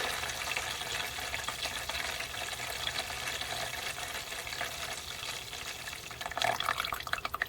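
Diesel fuel splashes and pours steadily out of a fuel filter being purged, a continuous close liquid gushing with a slightly louder spattering burst near the end.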